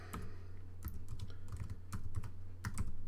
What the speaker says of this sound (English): I'm just going to type the favourite food